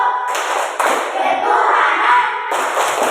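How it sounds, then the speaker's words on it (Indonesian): A group clapping the Pancasila clap pattern at a gathering, in a few quick bursts of hand claps mixed with chatter and voices. "Kalau begitu breaknya tepuk Pancasila."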